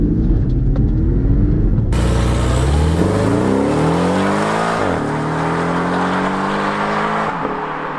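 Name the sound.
Porsche 718 turbocharged car accelerating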